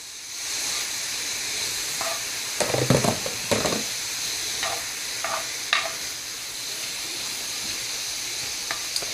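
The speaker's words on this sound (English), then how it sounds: "I'm just showing you how quickly this meat is cooking up." Beef strips for pepper steak sizzle steadily in a hot pan on a stovetop set near high, a continuous frying hiss with a few brief stirring clatters partway through and no talking.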